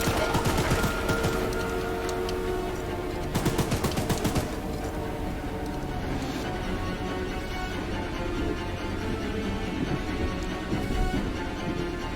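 A gun fires in the game Choo Choo Charles, heard as a sustained clattering roar with a brief louder burst of rapid shots partway through, all at a fairly steady moderate level.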